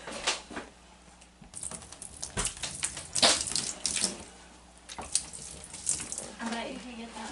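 Liquid splashes as it is poured onto a small floor area and swept around with a broom, giving broadband wet splashing and scrubbing swishes in irregular bursts, fairly close and moderately loud, with no talk.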